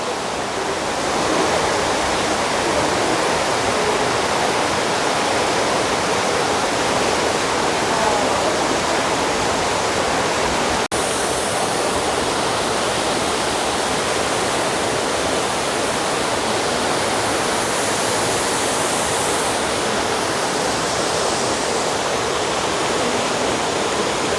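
Yongchu Falls, a three-tiered waterfall on a Juwangsan mountain trail, pours in a steady, loud, broadband roar that holds unbroken throughout, with no voices.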